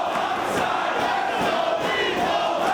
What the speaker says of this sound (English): The crowd a little bit split here.